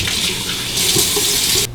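Water from a tap runs loud and close while a Fine Marvel safety razor is rinsed under it, a steady gush that grows stronger partway through and cuts off at the end.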